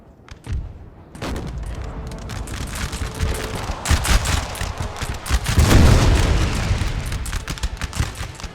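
Musket skirmish in Napoleon Total War, a few separate shots at first, then sustained crackling volleys and booms building loud and dense across the field, near and far.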